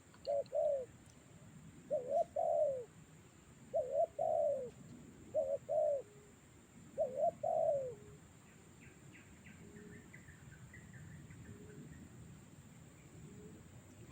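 A wild pigeon or dove coos near a bird trap in rural Malaysia, giving four clear paired phrases of low, hollow cooing at close range, then falling quiet while faint chirps and insect hum continue in the background.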